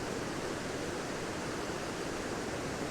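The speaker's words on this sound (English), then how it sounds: "Got some cascades here, and they're obviously hitting this bank and bouncing back over." Small stream cascading down an S-bend in upland country, water splashing against a bank and spilling back over, a steady close broadband rush with no voices.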